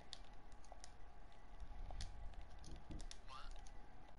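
Game controller buttons clicking loudly and rapidly near the microphone in an irregular rattling patter during online console play, with background hiss throughout.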